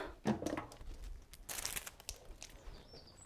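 Scissors snip the tip off a plastic piping bag of melted chocolate while making a French fraisier dessert, with quiet crinkling and a brief crisp cutting burst in the middle.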